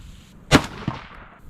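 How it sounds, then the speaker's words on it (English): A single sharp rifle shot from a 22 DPC firing a 62 grain Hornady ELD-VT bullet cracks out, followed by a fainter echo or impact a moment later. "Let's go ahead and shoot this 62 grain Hornady ELD-VT."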